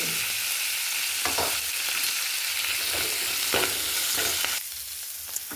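Onion stalks sizzle in a pan of hot oil, a steady close frying hiss with a handful of stirring scrapes that dips a little in level near the end, no voices.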